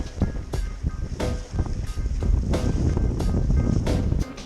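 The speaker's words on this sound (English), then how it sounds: "just moving downwind effortlessly, a few paddle strokes here and there, the boards just pick up speed and you glide downwind" Steady roar of wind and breaking chop on an open ocean during a downwind paddleboard run, with faint splashes from occasional paddle strokes; loud and close, no talking.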